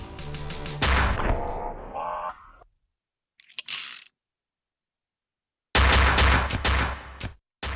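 Clicking, mechanical gunshot bursts from the video game Luckslinger 2, loud and crisp, arriving in separate clusters split by stretches of complete silence, with no voices over them.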